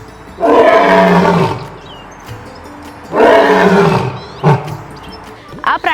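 An Asiatic lion at a zoo in Junagadh lets out two long, loud, deep roars, each tailing into grunts, followed by a shorter final huff.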